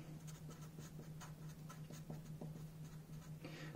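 A marker writes out instructions on a board, with short, quiet scratchy strokes that come in an irregular rhythm over a steady low hum.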